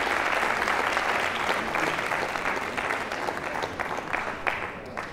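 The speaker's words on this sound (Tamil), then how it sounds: "கைத்தட்டுங்க அண்ணா" Audience applause at a mridangam arangetram recital, a broad sustained patter of many hands clapping that carries fairly loud and slowly thins toward the end.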